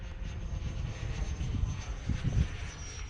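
An XFly Sirius radio-control jet flies on its maiden flight outdoors, giving a steady airy whoosh and rumble under wind noise, continuous and moderately distant.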